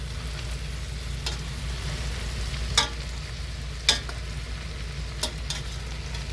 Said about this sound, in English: we're going to stir in these fresh green beans